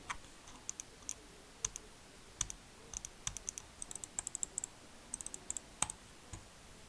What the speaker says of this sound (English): So that's how the button clicks sound like.